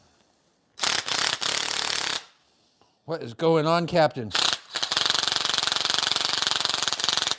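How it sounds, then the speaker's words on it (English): A power drill whirs loudly in two long bursts used to grind coffee, the first for about a second and a half and the second running steadily to the end, with a short spoken line between them. "So we're going to put my power drill on there. It's going to get loud for a second."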